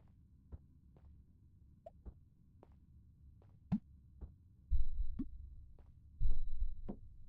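A heartbeat pounds in the horror game The Boba Teashop, where the player works as a boba barista: spaced, muffled low thumps that start faint and swell into heavy, loud double beats toward the end.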